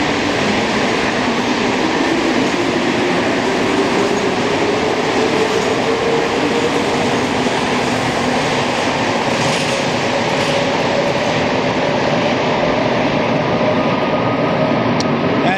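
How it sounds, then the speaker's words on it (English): A Montreal Metro MR63 train, one of the original 1966 rubber-tired subway cars, runs loudly and steadily throughout, a continuous close rumble and roar with a rising whine and no talking. "Good old MR63 trains, the originals, built for the opening of the Metro in 1966."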